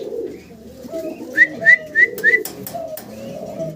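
A pair of red homing pigeons coo in low, soft murmurs, broken by four quick, sharp whistling chirps in a row near the middle of the clip.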